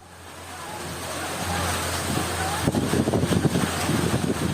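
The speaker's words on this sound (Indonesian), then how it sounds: "hujan deras disertai angin kencang melanda Tasikmalaya, Jawa Barat, Rabu siang" Heavy rain driven by strong wind sweeps over Tasikmalaya, West Java, a steady roaring wash that builds and grows gustier and more turbulent toward the end, with no voices.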